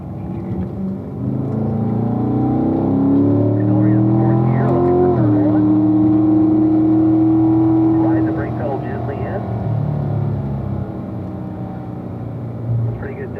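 A race car engine drones steadily on a track, its pitch climbing and then dropping as the driver downshifts toward a right-hand apex, the engine note holding beneath continuous spoken instruction.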